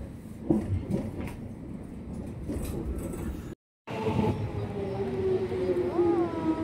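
Interior of a UK train on an evening ride home: a steady loud rumble of wheels and carriage noise fills the car, with faint voices, a brief cut, then a rising whine of the train accelerating.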